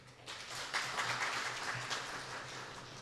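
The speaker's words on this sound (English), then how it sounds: "this deserves a big round of applause" An audience at a university MoU signing ceremony claps steadily for about three seconds, a soft, even wash of applause over a low background hum.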